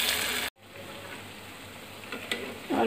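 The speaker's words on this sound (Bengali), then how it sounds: "সবগুলো নামিয়ে এখন পেঁয়াজগুলো দিয়ে দিচ্ছি।" Onions frying in a pan, a steady broadband sizzle that starts right after a brief cut and runs throughout at moderate level, with faint stirring clicks near the end.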